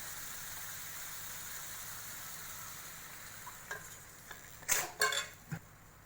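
Batter being added to roasted coriander in a pan for kothimbir vadi, a Maharashtrian snack, with a soft sizzle first, then a few sharp clinks and scrapes of stirring near the end.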